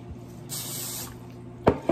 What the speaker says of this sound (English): Let's spray some of this so the caramel can